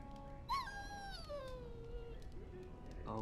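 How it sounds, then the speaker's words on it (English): A dog in the game Dragon Age: Origins whines in a long, falling, high-pitched whimper, then gives a few short faint yelps, fairly close and quiet. "Bloody dog."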